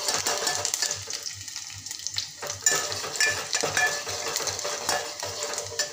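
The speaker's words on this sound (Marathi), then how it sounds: "कांदा छान मस्त असा आपला शिजत आल्यानंतर मी थोडे शेंगदाणे घालत आहे" Peanuts added to softened onion frying in a pan, with a continuous crackling sizzle under repeated scraping stir strokes and occasional utensil clinks; nobody speaks.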